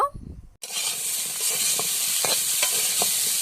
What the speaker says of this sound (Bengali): এই পাশের কড়াইতে তেল দিলাম বেগুনটা ভাজা করবো